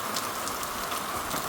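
Rain falls steadily at a campsite, a fine, even hiss of drops without pause, fairly soft and with no one talking.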